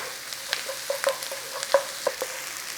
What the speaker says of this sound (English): So just cook out that rawness of these onions.